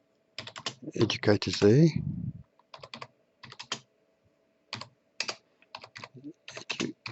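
Close, crisp computer keyboard typing in irregular bursts of keystrokes, with a brief stretch of someone speaking near the start.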